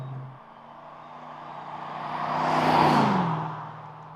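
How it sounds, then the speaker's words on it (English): A car running an aftermarket exhaust, its engine note rising as it approaches and swells to a loud peak near the middle, then easing off as it passes, with a steady low drone throughout. "This particular one, it is running an aftermarket exhaust system"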